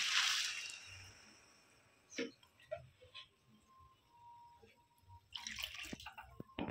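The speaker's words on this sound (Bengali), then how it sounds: "সেদ্ধ হওয়ার জন্য জল দিয়ে দিচ্ছি।" Water poured into a pot of washed rice to boil for egg biryani, a brief rushing splash at the start followed by scattered drips and small clinks.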